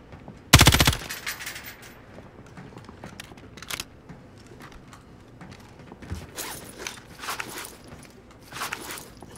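A game shootout in Warzone: one loud burst of gunfire up front, then scattered fainter shots, clicks and footsteps through the rest of the stretch.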